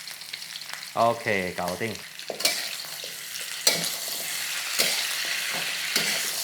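Pork trotters stir-fry with bean paste and soy sauce in a hot wok, a loud crackling sizzle broken by sharp spatula scrapes, with a brief spoken remark early on.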